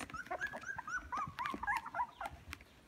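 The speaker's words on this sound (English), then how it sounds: "What you doing, puppies?" Three-week-old puppies whimper and whine in a cluster of high, wavering cries close by, overlapping one another with short yips in between.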